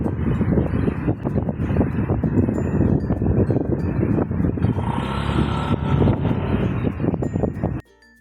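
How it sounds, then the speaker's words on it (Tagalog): Strong wind buffets and roars against the microphone alongside the wash of a rough sea, loud and continuous with gusty swells, cutting off abruptly at the end. "Ang lakas ng dagat at saka ang lakas din ng hangin."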